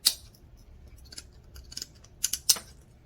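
Scissors snip through the stem of a dendrobium orchid, a few sharp close cuts spread across a quiet moment, with two quick clips near the end.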